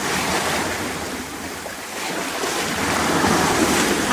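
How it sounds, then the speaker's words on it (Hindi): Sea waves crash and wash onto a beach in a continuous, loud roar of surf with gusty wind noise, close to the microphone. "बाप रे, कितनी बड़ी लहर।"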